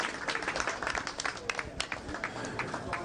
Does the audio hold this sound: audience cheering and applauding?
yes